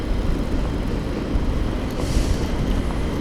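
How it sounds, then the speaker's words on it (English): A subway train rumbles past on an elevated bridge over water, a steady, fairly loud rolling roar that brightens with a faint hiss near the middle, with no talking. "There's the subway train, which stays mostly underground, but here in this section it comes up on the bridge to get over the water"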